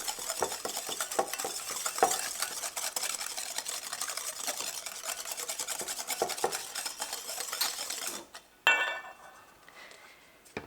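Almond flour cake ingredients being whisked together in a bowl, a steady scraping, stirring rasp with rhythmic strokes up close, ending with a brief clatter as the whisk is set down.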